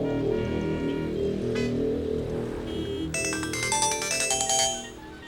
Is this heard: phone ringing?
yes